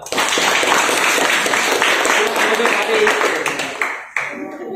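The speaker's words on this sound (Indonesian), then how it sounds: "tepuk tangan dong" Students in a classroom clap together on cue after a lesson on the causes of social conflict, a brisk burst of many hands that stays steady, then fades and cuts off near the end.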